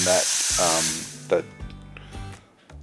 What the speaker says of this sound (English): You give that a really good stir around, and that's starting to activate those spices in